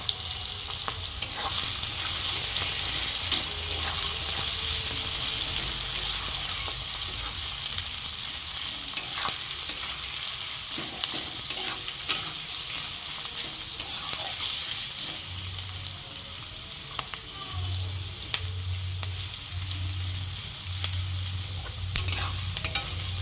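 Chopped onions sizzle and crackle loudly in a hot pan, a constant frying hiss with occasional stirring scrapes and a low hum underneath.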